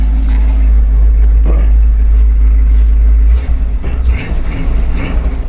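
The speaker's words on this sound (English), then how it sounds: "I'm gonna rev it up a little bit." A rock bouncer's engine runs loud and close, a heavy low rumble that shifts and wavers partway through as the throttle is blipped.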